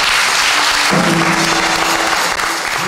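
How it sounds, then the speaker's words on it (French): An audience at an academic graduation ceremony applauds loudly, with dense, sustained clapping that fills the hall from start to finish. "Nous acclamons très fort."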